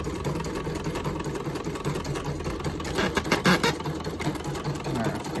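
A Cny E900 portable embroidery machine stitches a sash with a steady, rapid mechanical whir and chatter that runs the whole time, close and constant with slight shifts in pace.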